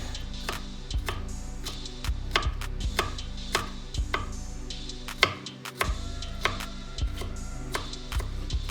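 A knife mincing cooked potatoes on a cutting board, steady rhythmic chops in quick succession with a few heavier thuds, close and clear with no talk.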